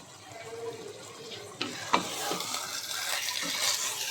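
Sugar syrup with ghee is stirred in a pan while making shahi malai zarda, giving soft scraping and light sizzling with a few sharp clinks, close and moderately loud.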